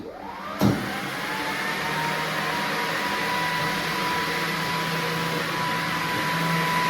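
A Eureka E36B floor scrubber dryer with its vacuum switched on gives a steady, continuous motor whine and airflow roar after a brief click at the start. It holds a constant level throughout and nobody speaks.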